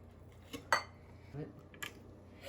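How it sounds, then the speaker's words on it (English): Peanut butter cookie dough set down on a metal baking pan, with a few light clinks and taps of a utensil against the tray, close and sparse, over faint room noise. "so we're putting the Cookie dough. the cookie dough onto the pan"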